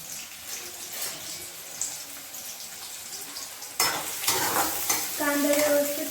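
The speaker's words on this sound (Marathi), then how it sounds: "आता आपलं तेल छान तापलेलं आहे यामध्ये टाकायचं आपल्याला बारीक चिरलेला कांदा" Finely chopped onion frying in hot oil for egg bhurji, a steady sizzle that turns louder and brighter midway as the onion hits the pan, with some stirring, no voices.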